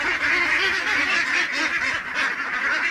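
Ducks crowd a laying pen on an egg-producing farm and quack loudly and continuously. The chorus is dense, close and overlapping, with no pauses and no voices.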